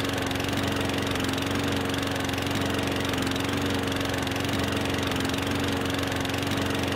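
A small push lawn mower engine in the Farming Simulator 15 game drones steadily and loudly at a constant idle-like pitch, with no pauses or talk.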